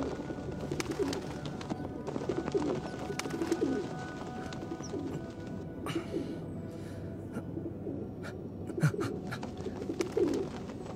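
Pigeons in an outdoor setting coo softly in low, rounded calls, scattered through steady ambient background noise with a few faint higher chirps and clicks, and no talking.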